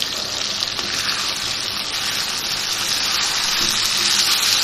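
Garlic-ginger paste and a green chili sizzle with chicken in a hot pan for murgh do pyaza, a steady close frying hiss that holds evenly throughout with no talking.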